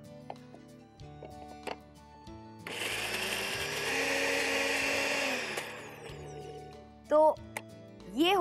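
A kitchen mixer grinder whirs loudly for about three seconds as it grinds a spice paste with a little water, framed by quieter handling knocks and someone talking before and after.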